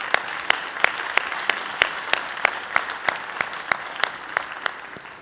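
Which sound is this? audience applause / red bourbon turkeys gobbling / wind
audience applause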